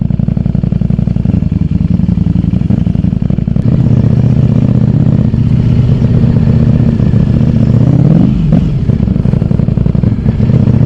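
A Ducati Streetfighter V4S motorcycle engine runs loud and close in rush-hour traffic, a steady throaty rumble with brief revs and rattling clatter, no talking.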